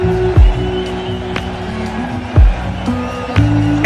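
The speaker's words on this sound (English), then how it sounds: "With that 6, it's brought the crowd to its feet." Stadium crowd at an India vs Pakistan Asia Cup cricket match roaring after a six, a dense sustained din of cheering with loud low thumps and swells under a broadcast mix.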